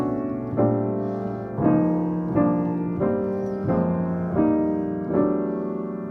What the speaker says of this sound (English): All these chords are played long, so it is like a dotted quaver or a 3/16 note length.